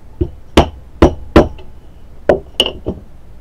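A small punch tapped against the cross pin of a Swiss Vetterli Model 1878 rifle, several sharp metallic taps and clinks in an irregular rhythm, close and loud, with short quiet gaps between strikes.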